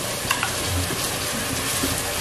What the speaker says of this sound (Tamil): இப்போ பூண்டு பாருங்க நல்லா ஒரு 2 நிமிஷம் வந்து அதோட ஃபிளேவர் வந்து நம்ம வதக்கிட்டோம்